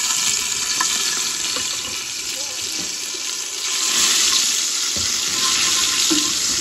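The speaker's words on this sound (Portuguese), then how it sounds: "pus o óleo já esquentado, já vou fazer o meu bife" Beef steak fries in hot oil with garlic, giving a loud, even, close-up hiss with a few faint clicks and a slight swell partway through.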